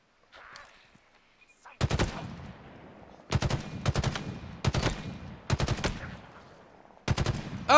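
Bursts of rapid automatic gunfire in the Halo Infinite video game, five loud, close volleys of several shots each, separated by short pauses.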